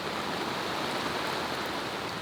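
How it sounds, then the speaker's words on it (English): Rainforest rain begins over a jungle river anchorage as a boat sits at anchor, giving a continuous broadband rush that stays even and close for the whole stretch. "just as the rainforest rain started"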